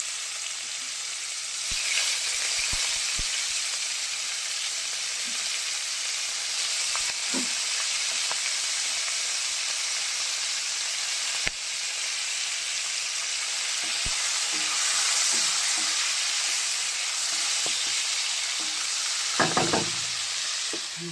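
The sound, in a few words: frying tomatoes and green chillies in a pan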